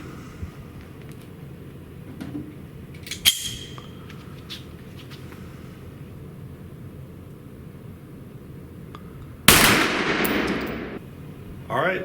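Gunshots at a shooting challenge target: a sharp crack early on and a louder blast later with a decaying tail, separated by quiet ambient background.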